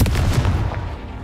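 A Confringo blasting spell detonates in Hogwarts Legacy, a heavy booming impact at the start that rolls into a dense rumbling decay, loud and close with no voices.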